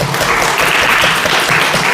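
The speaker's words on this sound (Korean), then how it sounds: "그래서 축하한다고 박수 한번 하겠습니다" A church congregation claps to celebrate a member's new business opening, a dense, loud round of applause filling the room briefly with no speech over it.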